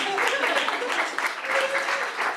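An audience applauds at a live event honouring stylists, a dense, steady wash of clapping lasting a couple of seconds, close and fairly loud.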